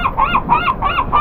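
Seagulls on the windy Oregon coast during crabbing give loud, close, repeated honking calls in a steady rhythmic series, with no talk over them.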